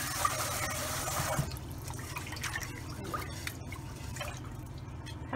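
Glutinous rice gets its third rinse: water drips and trickles softly close by, with gentle sloshing at first that settles into quiet dribbling.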